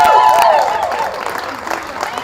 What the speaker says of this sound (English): That gets the Kennedy crowd fired up.